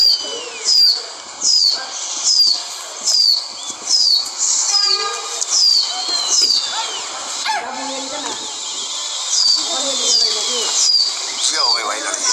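Pigeons flap their wings in repeated bursts on a rooftop, loud and close, with a steady rhythm of wingbeats over a constant noisy background and faint voices.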